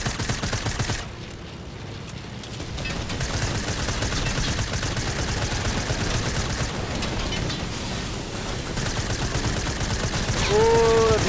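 Rapid, loud automatic gunfire in Fortnite during an aerial dogfight, sustained bursts with a short lull near the start and a final swell, mixed with game effects and excited voices.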